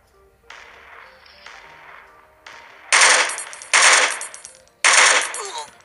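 Bursts of gunfire in the video game Hopeless Land: a quieter rattling volley, then three loud, sharp automatic bursts with brief gaps between them, no talk.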